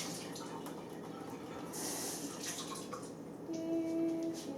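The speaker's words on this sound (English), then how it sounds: "You want to rinse that off from this, please?" Tap water runs steadily in a kitchen sink while something is rinsed off during homemade plant-based pizza making, with a brief louder splash and light clinks over the continuous flow.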